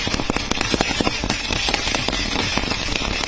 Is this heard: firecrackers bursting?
yes